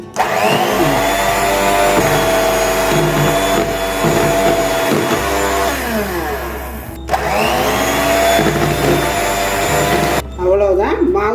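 A kitchen mixer grinder whirs at high speed as it grinds ingredients into powder, running loud and steady with short pauses and restarts, while a person talks over the motor.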